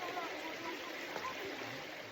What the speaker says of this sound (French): Voici la super cascade avec des grands jets que vous pouvez voir arriver, celle qu'on attendait depuis longtemps.